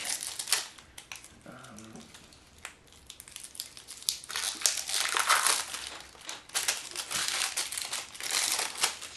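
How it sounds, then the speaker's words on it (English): Shrink wrap crinkles as it is peeled off a Minchiate tarot card deck during an unboxing, with close, irregular crackling bursts that grow denser and louder toward the end. "Put the shrink wrap on the ground there."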